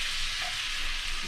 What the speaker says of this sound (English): We're going to put our wine in here. Lemon juice. And just whisk this around.